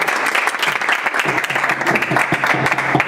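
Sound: audience applause

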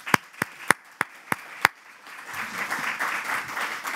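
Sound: audience applause for the panel

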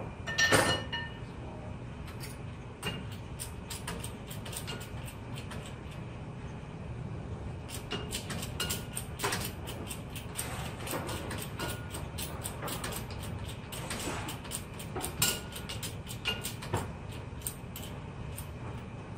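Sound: injection mold being jacked up to height

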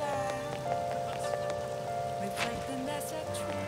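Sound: rain in video game Persona 5 Royal

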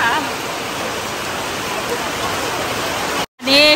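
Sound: rain falling and dripping on a zinc roof

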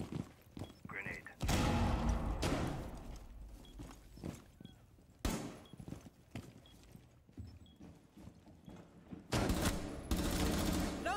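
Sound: grenade and gunfire in a video game

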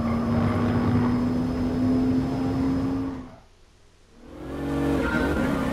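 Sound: Mercedes race car engine in Gran Turismo Sport video game

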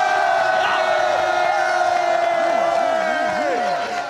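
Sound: crowd applause and cheering

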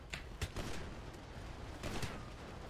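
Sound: gunfire in GTA V video game

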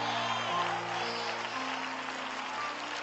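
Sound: audience applause, ladies clapping

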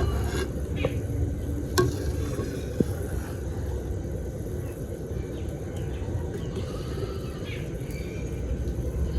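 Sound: sugar syrup bubbling while boiling

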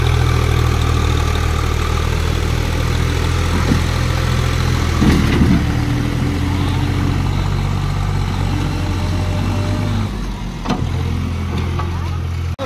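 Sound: tractor engine running

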